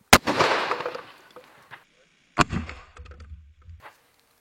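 Two sharp, loud firecracker-like blasts set off against a ballistic gel hand, the first at the very start with a long decaying rumble, the second a couple of seconds later followed by a low tail and brief talk.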